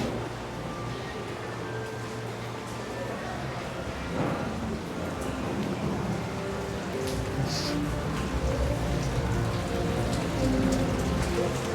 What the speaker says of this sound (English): Looks like a light rain.